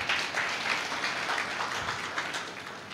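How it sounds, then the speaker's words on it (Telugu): Clapping from a church congregation during a training programme: steady, dense applause across the clip, fairly loud and close with no talk over it. "క్లాప్స్ కొట్టి గట్టిగా"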